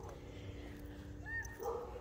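A dog near a lake on a Florida vacation gives a couple of short, high yips over a low background murmur, close by and brief.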